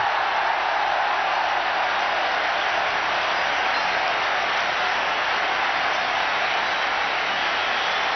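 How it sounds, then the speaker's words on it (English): Steady, broad roar of a packed cricket stadium crowd cheering a boundary at the 1996 World Cup semi-final in Kolkata, continuous and even, heard as a distant muffled wash without any voices standing out. "Listen to the crowd."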